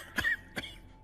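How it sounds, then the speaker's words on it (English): Two short coughs sound close together, the first slightly stronger with a rasp, the second softer, at low volume against a quiet background. "Let me cure your cough."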